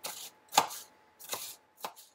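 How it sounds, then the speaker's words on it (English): A knife chops through spiralized potato in four separate strokes, each a crisp close thud with a short crunch, spaced unevenly over about two seconds with quiet between them and no talking. "so we're just chopping it up a little bit"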